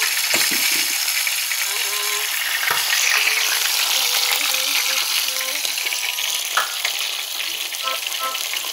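Chicken sizzles steadily in a Teflon pan, a continuous close frying crackle with occasional light rattles and stirring sounds throughout.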